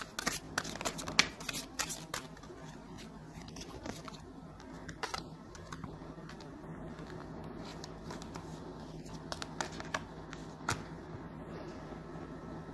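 Tarot cards being shuffled by hand at close range, a soft continuous riffling and flicking with sharper snaps scattered throughout, quiet and steady with no talking.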